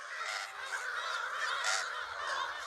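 Gulls call on an island in Dukan Lake, a loud overlapping flock of harsh, honking cries rising and falling continuously at close range.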